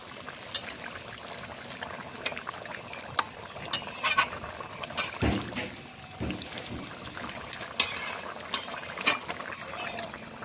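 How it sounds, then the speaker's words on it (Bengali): A Bengali vegetable curry simmers in a pan with irregular bubbling pops and light crackles, close and moderately quiet, some bursts sharper than others against a soft steady background. "তরকারিটা এখানে কিছুক্ষণ ফুটিয়ে নিচ্ছি"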